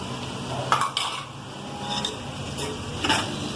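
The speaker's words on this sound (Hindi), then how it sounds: "इस तरीके से हम अच्छे से मिक्स करेंगे ताकि तमाम चीजें आपस में मिल जाए" A spoon stirs chicken macaroni with carrot, potato and Chinese salt in a pan, giving soft scraping and a few louder clinks of metal against the pan over a low sizzle, with no voices.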